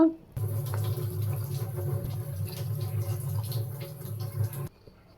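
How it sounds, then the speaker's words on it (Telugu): Three cups of water pour steadily into a cooking pot of vegetable pulao for about four seconds, a continuous splashing stream close to the microphone with a low hollow rumble, no talking. "three cups of water add చేస్తున్నా"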